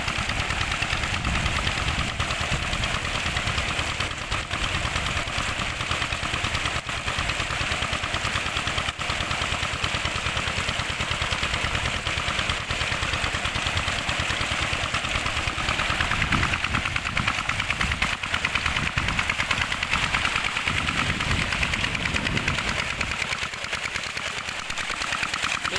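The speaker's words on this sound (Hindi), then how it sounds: "इंजन बिल्कुल स्लो चलाया हुआ है" A diesel engine drives a 4-inch tube well water pump in Punjab, a loud, close, steady rapid knocking chug running without pause throughout.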